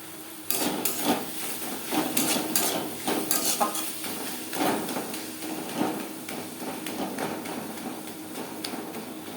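Spoon stirring spices, ginger paste, green chilli paste, turmeric, salt, onion and tomato in a pan for Bengali doi katla, scraping and knocking in an irregular rhythm with a faint sizzle, close and alone.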